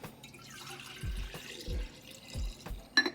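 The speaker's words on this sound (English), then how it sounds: "Pour this in a different jug here." Homemade clove juice is poured into a different jug, giving faint splashes and drips with a few soft low gulps spaced through a quiet moment.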